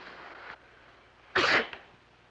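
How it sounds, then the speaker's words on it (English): A single sharp sneeze bursts out after a brief soft breath, close and loud, with quiet before and after. "you sneezed"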